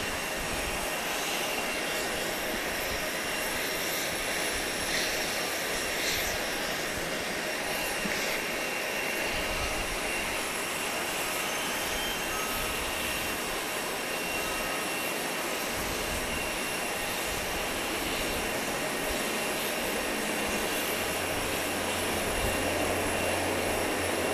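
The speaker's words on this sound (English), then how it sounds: "we've got Cayman Airways Flight 4008 from Cayman Brac. This will be the Saab that we talked about a few moments ago" A Cayman Airways Saab turboprop airliner flies at Grand Cayman airport, its loud, continuous engine roar and whine steady throughout and swelling slightly near the end, with no voices.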